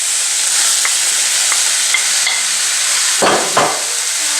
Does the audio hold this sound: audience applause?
no